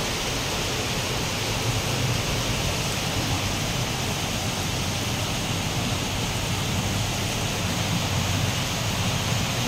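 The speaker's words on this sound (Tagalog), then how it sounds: "puno na siguro yung gutter kaya naglalabasan na ang ulan" Heavy typhoon rain spilling over a full gutter, a dense, steady roar of pouring water that stays constant throughout with no voices.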